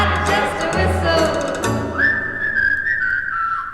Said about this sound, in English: if I want to whistle, I just whistle